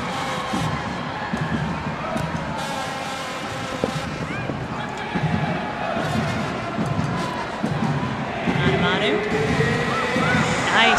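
A stadium crowd at an NWSL soccer match roars in a sustained, loud swell after a goal. Wind buffets the microphone, and a commentator talks over the noise.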